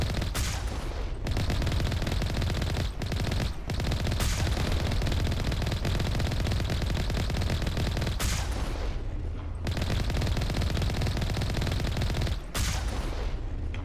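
Sustained, loud automatic gunfire in the sci-fi video game Mass Effect, continuous rapid bursts with a few brief pauses across the whole stretch, no talking over it.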